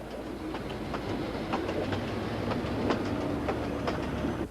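Sunlander passenger train rolling along rails in Queensland, a steady close rumble with regularly spaced clickety-clack wheel beats over rail joints throughout, continuous and fairly loud with no talking.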